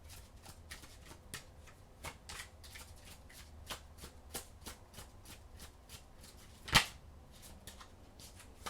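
Oracle cards being shuffled, a steady series of soft riffling flicks and snaps at an even rhythm, with one sharper, louder card snap near the end, close and fairly quiet.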